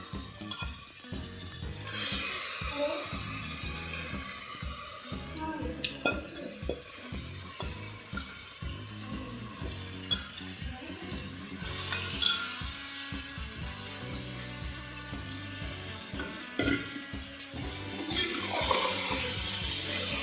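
Marinated mutton hits roasted masala in a pan for a Kolhapuri mutton dish, producing a loud, steady, close sizzle with occasional clanks and stirring scrapes over twenty seconds.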